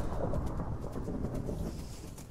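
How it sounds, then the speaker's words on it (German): Thunderstorm with steady rain in the Minecraft video game: a dense, continuous roar of rainfall with low rumbling, loud and unbroken throughout, with no voices. "dass während eines Gewitters auch in der Wüste Regen fällt"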